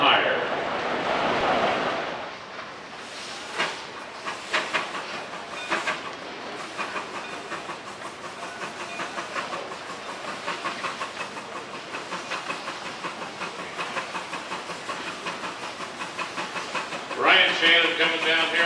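A big Wood Brothers steam traction engine, built in Des Moines, Iowa, runs at a threshing show, giving rhythmic chuffing and hissing with mechanical clatter throughout and a louder burst of steam near the end.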